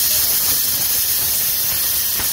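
A chana sattu paratha fries in butter on a hot pan, giving a loud, close, unbroken hiss and sizzle that fills the whole moment.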